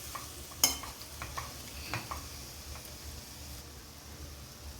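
Amaranth leaves frying in a pan are stirred with a utensil, giving a soft steady sizzle with faint scraping and one brief clink, quiet and close, no talking.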